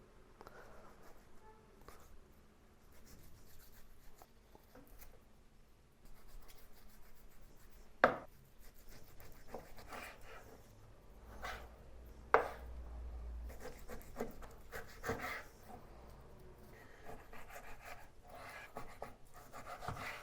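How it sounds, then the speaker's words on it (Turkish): Knife strikes on a cutting board as beef is cut into cubes, a few sharp isolated chops spaced irregularly over quiet background handling noise. "Hazırlığımıza etleri doğrayarak başlıyoruz."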